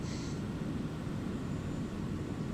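Steady broadband drone of a small plane making a low flyover of a highland bush strip in MS Flight Simulator, continuous and even throughout with no talk.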